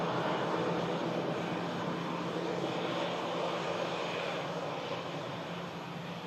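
A passenger aircraft at Manchester Airport, a steady broad engine roar heard from a distance and fading slightly toward the end, no talk.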